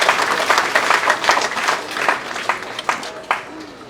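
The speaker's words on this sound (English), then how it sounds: "Clap for him, please." A crowd at a political party launch gives warm applause for a man in a wheelchair, loud and dense at first, then thinning into scattered individual claps as it fades.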